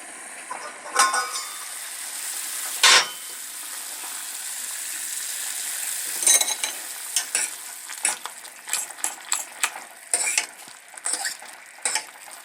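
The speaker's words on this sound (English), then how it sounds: "put a lid on that and let that simmer for a bit, and then we'll check back once that's had time to bubble together for a while" Mushroom miso soup in a lidded pot bubbling and simmering gently, with steady soft sizzling hiss broken by scattered clicks and clinks of the lid and spoon, moderately close.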